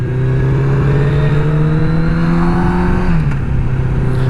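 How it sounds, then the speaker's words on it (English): A used motorcycle with 60k miles, a bad clutch and an oil leak runs loud and close, its engine holding a steady drone before the pitch drops slightly near the end, with no talking. "Not trying to rev it too high or anything crazy."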